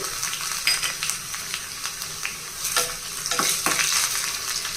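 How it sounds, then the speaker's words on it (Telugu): Crushed garlic frying in hot oil in a pan, a steady close sizzle with scattered crackles and stirring scrapes throughout, no talk. "ఇదిగోండి ఈ విధంగా వేగిన తర్వాత ఇప్పుడు ఒక నాలుగు వెల్లుల్లి రేఖలు తీసుకుని కచ్చపచ్చగా దంచేసి వేసేయాలి"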